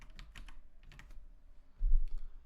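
A source host address is typed on a computer keyboard while setting up a pfSense firewall traffic shaper rule. Close, quick keystrokes come in short bursts with brief pauses and no talking.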